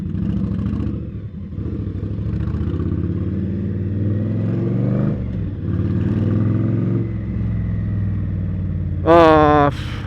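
A motorcycle rides through New York City streets, its steady engine drone and road rumble up close throughout, with traffic noise around and a short rising whine near the end.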